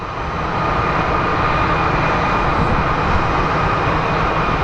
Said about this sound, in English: It's a 19-year-old Boeing